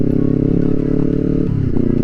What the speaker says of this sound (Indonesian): Kalian buka gas sedikit doang, itu suaranya udah det.